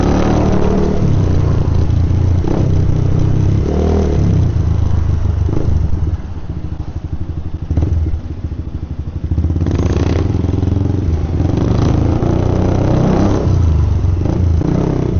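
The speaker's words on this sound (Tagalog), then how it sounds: "Traffic oh." Busy street traffic with motorcycles passing, recorded from a motorcycle ride with a GoPro 13 and DJI Mic 2, a loud continuous engine drone and road rumble with wind buffeting throughout.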